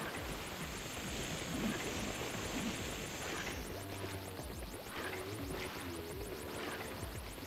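A plane flying in the Splatoon 3 video game, a steady airy engine drone with a hissing high wash that shifts partway through, continuous and fairly loud with no talking.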